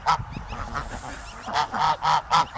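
Loud geese honking close by near a gosling, a burst of repeated harsh honks, rising to several strong calls in quick succession near the end.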